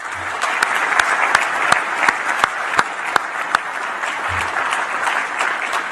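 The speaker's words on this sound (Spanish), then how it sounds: "Quiero pedirle a todos ustedes un aplauso para César" An audience applauds an athlete named César during a speech by Paraguay's president, a steady, dense wash of clapping from a large crowd with a few sharper individual claps standing out throughout.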